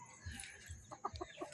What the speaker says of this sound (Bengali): এই দেখো এগুলো আমাদের মুরগি, মোরগ মুরগি।